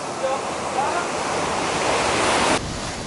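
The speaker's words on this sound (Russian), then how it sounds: "Так, волна набегает" Storm waves surge and break on a beach in a steady, loud roar of surf and spray, with wind buffeting the microphone before the wash drops off sharply near the end.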